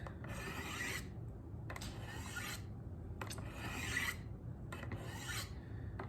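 A Victorinox Fibrox 8-inch fillet knife drawn along brown sharpening rods for a 20-degree micro bevel, giving four separate rasping strokes of even length, quiet and close, over a soft steady background hum.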